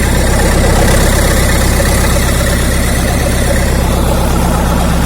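A Nissan Condor H41 truck's 1992 FD diesel engine with a mechanical injection pump runs cold on its first start, a loud, steady idle with an even low throbbing rhythm throughout, no voices over it.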